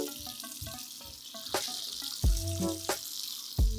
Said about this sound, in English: you want to rinse out some of that residue just like this, just real quick